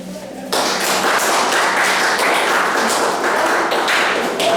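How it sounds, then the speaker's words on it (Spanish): Classroom applause bursts in abruptly after a moment of quiet and holds as a loud, continuous wash of many hands clapping to the end. "Un aplauso"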